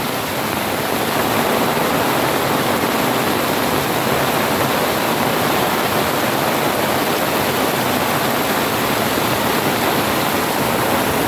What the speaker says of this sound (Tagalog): lumalakas na naman yung ulan at pati hangin